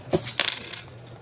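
Coins from a found wallet drop and clatter: a quick close jingle of a few metallic taps and rattles settling over about a second, with no talk.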